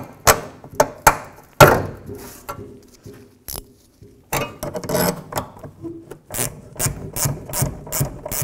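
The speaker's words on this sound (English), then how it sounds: "So we'll loosen up the bottom nut." A ratchet loosens the bottom nut on the fuel tank shield of a Jeep Cherokee (1984–2001): bursts of close, loud clicking strokes, separated by short pauses, ending in a quicker run of clicks.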